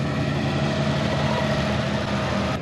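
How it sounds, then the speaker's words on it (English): Several hit and miss engines run together in a steady, dense mechanical hum and drone at an old iron show displaying antique farm machinery, loud and continuous throughout. "Several hit and miss engines."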